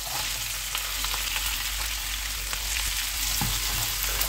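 Onions sautéing in butter for a restaurant-style butter chicken, a soft, steady hiss of frying without speech.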